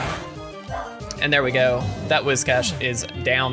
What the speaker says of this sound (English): If you hear my dog barking in the background